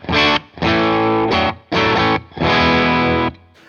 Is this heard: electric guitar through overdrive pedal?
yes